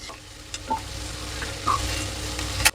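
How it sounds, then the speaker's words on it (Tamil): Oil sizzles steadily as spices and green chillies temper in a pan for a banana stem stir-fry, with a few faint clicks and a sharp metallic tap near the end. "இது பொரியல் தாளிக்கிற மாதிரி தான் இது."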